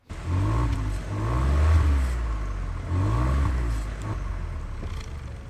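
Ford Puma ST Line exhaust note, a close, moderate engine hum with two smooth revving swells rising and falling, then settling into a steady idle, with no talking.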